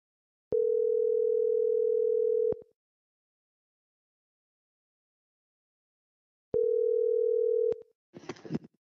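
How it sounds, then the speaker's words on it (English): Telephone dial tone, a steady loud pure hum for about two seconds, silence, then a shorter second burst followed by a brief crackle of noise. "Let me get Khalil on the phone"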